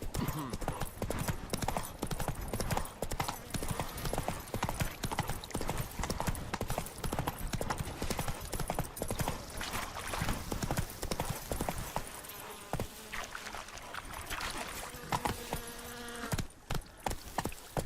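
A horse's hooves clip-clop in a brisk, even trotting rhythm, close and prominent, while riding through The Witcher 3 video game; the hoofbeats continue steadily throughout, with a short softer patch near the end.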